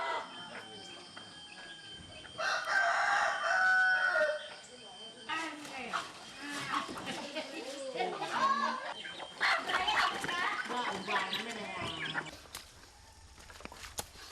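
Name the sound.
domesticated chicken in Borneo forest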